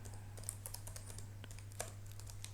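Quiet, rapid keystrokes on a computer keyboard tap out an irregular run of light clicks over a low steady hum.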